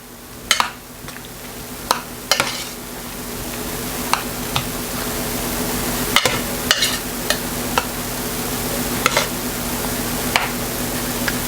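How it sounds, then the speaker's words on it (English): Fresh parsley and dried thyme are stirred into a pot of Hoppin John, with sharp spoon scrapes and clicks against the pot repeating over a low, steady simmering hiss. "I'm going to stir this in."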